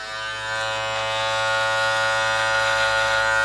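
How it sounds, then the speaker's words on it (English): An electric beard trimmer fitted with a 3 millimeter guard cuts through beard hair, giving a loud, steady close-up motor buzz that holds an even pitch from start to finish. "you should see, here's some substantial hair trimming."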